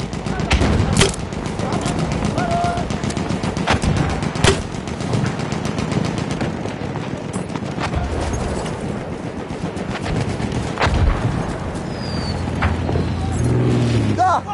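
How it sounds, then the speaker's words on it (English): Battlefield 1 conquest gunfire: sustained rapid machine-gun bursts with scattered heavier gunshots and explosions, loud and continuous over battle din, with some voice in the mix. "Da! Ein Maschinengewehr!"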